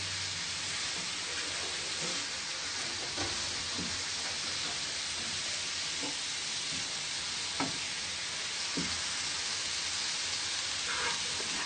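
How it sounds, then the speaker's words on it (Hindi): Chicken and vegetable macaroni is stirred in a hot pan under a constant soft sizzle, with occasional faint scrapes and taps from the utensil. "इसको हम अच्छे तरीके से मिक्स करेंगे।"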